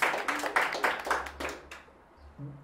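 A few sharp, evenly spaced hand claps ring out at close range in a casual food vlog setting, fading out after a couple of seconds.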